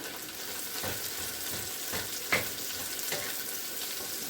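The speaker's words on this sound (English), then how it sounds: "And all you doing is let the mushroom cook down. And stir this up a little." Mushrooms cook down in a pan with a constant soft hiss of frying, broken by a few light scrapes of stirring and one sharper knock.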